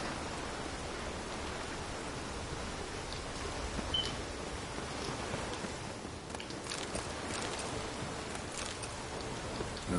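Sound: rain in a video game

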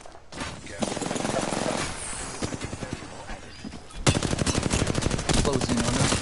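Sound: gunfire in a video game

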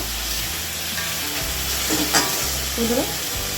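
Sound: stirring spice paste with fried papaya and potatoes in a pan

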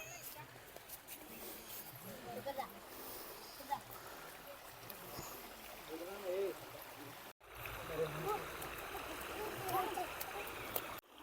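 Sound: water trickling down from the hill at a cave exit

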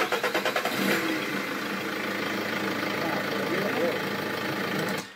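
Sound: car engine starting and idling after pressure regulator valve replacement

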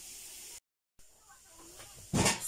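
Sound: dough frying in a pan

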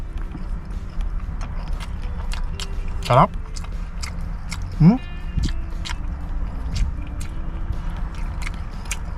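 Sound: loud chewing while eating

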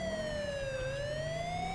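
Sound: emergency vehicle sirens in LSPDFR police mod video game

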